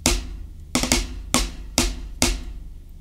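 A drag paradiddle rudiment played on a single drum, sharp close strokes falling in five evenly spaced clusters, each with a quick grace-note drag before the accent, ringing out loudly with no voice.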